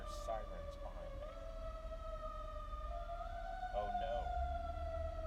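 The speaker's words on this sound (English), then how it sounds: "Sirens. There are sirens behind me." Wailing emergency sirens sweep up and down over steady traffic rumble, fairly distant, with a brief spoken exclamation partway through.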